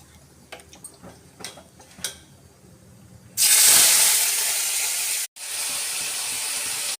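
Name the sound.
ash gourd fritters dropped into hot oil and frying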